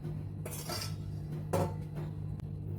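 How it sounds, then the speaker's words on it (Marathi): Metal utensils clink against pots and a plate while half-fried sprouted beans are moved from the pan, giving a few scattered scrapes and taps close by, with no talking. "हाफ फ्राय केलेला आहे ते आपण आता एका प्लेटमध्ये काढून घेऊया"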